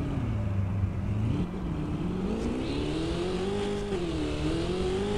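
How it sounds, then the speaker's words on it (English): A Bugatti Chiron accelerating hard in a video game drag race, the engine note rising steadily through the gears with a brief dip at a shift, loud and close with no talk. "Look, it's another Bugatti Chiron, guys. Wow, alright. Let's have a drag race."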